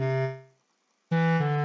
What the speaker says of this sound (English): This is the sound of a violin being plucked by the fingers.